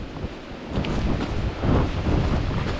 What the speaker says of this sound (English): you can still hear that wind,